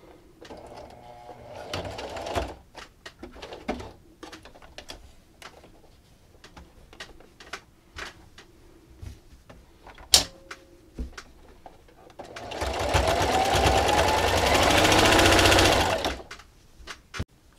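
A sewing machine stitches through fleece while a blanket is being sewn, first in scattered short bursts and clicks, then in a sustained loud run of rapid stitching near the end.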